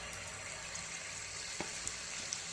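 Gogle batter for fruit gogle is ladled into hot refined oil in a kadai to fry, giving a quiet continuous sizzle with a few soft drips and light clicks; no one speaks.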